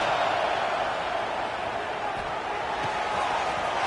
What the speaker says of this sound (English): This crowd on hand trying to make sure the Gators don't back down on 3rd down